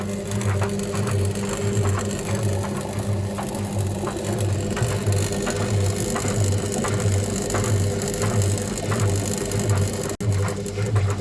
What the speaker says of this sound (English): It sounds like maybe the brushes are arcing and sparking in there as well,